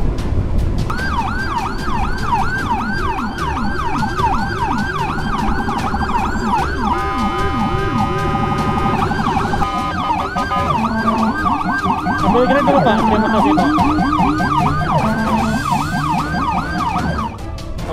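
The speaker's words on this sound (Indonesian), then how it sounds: "Pakai sirine" A loud, wailing ambulance siren sweeps up and down continuously with traffic rumble underneath, and a brief voice speaks over it, near Hermina hospital in Tasikmalaya, Indonesia.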